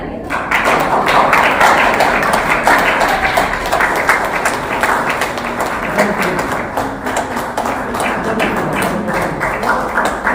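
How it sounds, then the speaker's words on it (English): An audience at a retirement party claps together, producing a loud, continuous patter with some heavier thumping taps mixed in, sustained throughout. "Please clap together."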